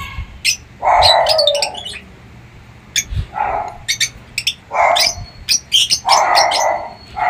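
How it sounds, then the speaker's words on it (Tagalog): Several small pet birds in an aviary chirp and tweet in quick, scattered bursts, close by, with brief quiet gaps between clusters of calls. "Kokonti lang po yung aking mga alagang ibon."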